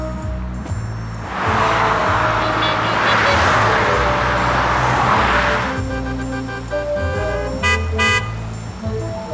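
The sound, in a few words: sewage trucks driving past in Dubai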